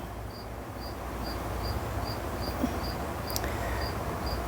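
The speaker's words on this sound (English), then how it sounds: "That cricket is getting louder and louder." A cricket chirps indoors in an evenly spaced, high, regular rhythm, about two pulses per second, clear but moderate over a constant low background hum.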